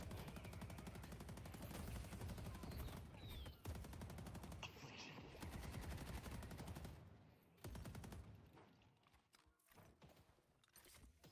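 Barrage ability firing in a video game, a dense, rapid rattle of repeated shots that goes on for several seconds, then breaks up into scattered bursts and fades.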